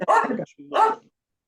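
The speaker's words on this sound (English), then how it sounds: "I have a barking dog" A dog gives two loud, close barks with a short gap between them, then goes quiet, heard indoors during an online call.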